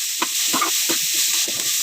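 Carrots for lumpia shanghai filling are stirred in a pan. A spoon scrapes in quick, regular strokes over a constant bright sizzle, close and fairly loud.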